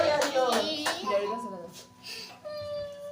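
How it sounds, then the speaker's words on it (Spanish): A church congregation claps in a sanctuary, a few loud, rhythmic hand claps at the start amid voices, then thinning into scattered claps while people talk and a voice is heard. "Denle un aplauso a Dios."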